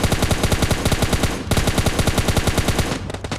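Rapid automatic gunfire in a video game, two long sustained bursts of fast, evenly spaced shots, loud and close, with a brief gap between them and no voices.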